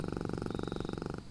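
A pet panther purring steadily, a close, continuous rumbling pulse with regular rhythm that stops abruptly near the end.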